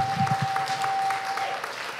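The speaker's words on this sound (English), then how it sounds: "Give God a hand clap of praise." A church congregation claps in praise during a worship service, a short burst of scattered hand clapping with a steady tone sustained underneath.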